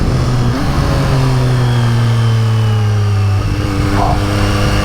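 A Triumph 765RS motorcycle with a decatted full-system Akrapovic exhaust and Spark headers accelerates hard, its engine note climbing steadily through the gears with a brief dip before rising again, loud and close throughout.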